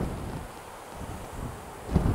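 Strong wind buffets and roars in low gusts through ornamental grasses, including giant miscanthus, with a rougher burst near the end and no one speaking.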